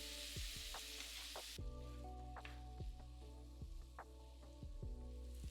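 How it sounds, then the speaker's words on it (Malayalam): Chopped tomatoes and green chillies fry in masala in a pan, giving a steady soft sizzle throughout, with occasional spoon scrapes and stirs popping up over the hiss. "അതിലേക്ക് 2 പച്ചമുളക് അരിഞ്ഞത്, 4 തക്കാളി ചെറുതായിട്ട് അരിഞ്ഞത്, ഇത് രണ്ടും കൂടി ഇട്ട് 10 മിനിറ്റ് ഫ്രൈ ചെയ്യുക."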